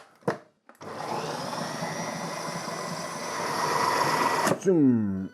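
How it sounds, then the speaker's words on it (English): A blender whirs steadily as it purees chickpea hummus, running loud and continuous for almost four seconds after a short click start, then cutting off sharply, with a brief voice right after. "So lid on, and we're gonna blend this until it comes together"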